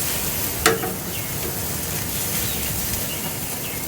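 Ribeye steak searing over open flames, a steady broad sizzle and crackle running throughout with one brief sharp pop near the start, close and fairly even in level with no talking.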